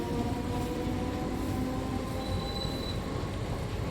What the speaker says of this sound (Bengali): এই যে লাস্ট ট্রেন আমাদের দেবীপুর থেকে ছেড়ে চলে যাচ্ছে